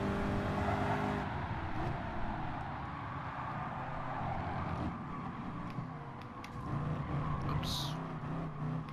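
Race car engine revving and accelerating through a drag race in Gran Turismo, a steady loud drone with a brief high whine near the end, voices speaking over it.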